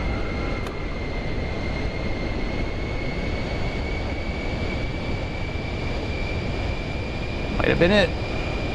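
Jet engines of a Pilatus PC-24 in Microsoft Flight Simulator 2024: a loud, steady roar with a high whine running throughout, and a short spoken phrase near the end.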